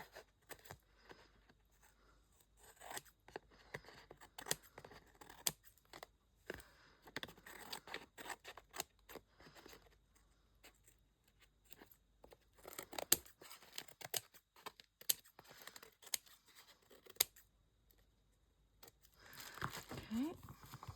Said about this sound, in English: I'm just going to cut off the excess around the card